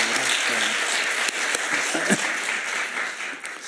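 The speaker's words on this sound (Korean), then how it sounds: "오늘 귀한 찬양 해주신 우리 찬양팀, 우리 다시 한번 감사의 박수" A church congregation at a Sunday worship service applauds the worship team, sustained loud clapping from many hands filling the room, with a few voices faintly underneath.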